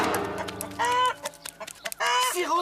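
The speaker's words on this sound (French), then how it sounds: "Sir Roderick, suivez cette poule." A cartoon hen clucks in short bursts, with bright, close, animated squawks separated by brief gaps.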